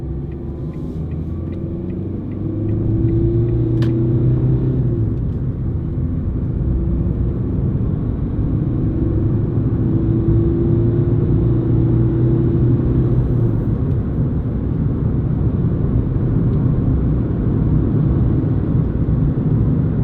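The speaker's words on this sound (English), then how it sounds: "you do get a little bit more tyre noise coming through, but nothing drastic so far" Steady low tyre roar and road rumble fill the cabin of a moving Ford Fiesta 1.4 TDCi panel van, a continuous droning hum that swells slightly after the first couple of seconds and holds, with no one speaking.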